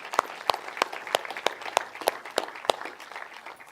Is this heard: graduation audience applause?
yes